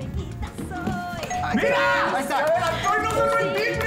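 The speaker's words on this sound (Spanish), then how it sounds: "Ya se descompuso el timbre. Se quedó pegado." A doorbell stuck ringing after it broke, sounding as a sustained electronic chime tone that holds on under excited voices and background chatter in a noisy room.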